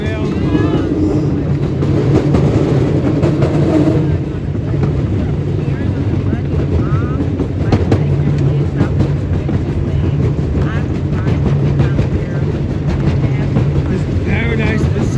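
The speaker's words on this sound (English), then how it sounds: "Diesel locomotive pulling a rail car." Paradise & Pacific Railroad diesel locomotive number 209 hauls a rail car through McCormick-Stillman Railroad Park. A low engine drone and rumble carry on throughout, nearby and fairly loud, with some wind buffeting.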